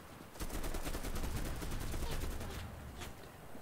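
Sustained automatic gunfire in the Enlisted video game, a dense rapid chatter of shots from several weapons running continuously and loud, with no pauses, in a World War II battle setting.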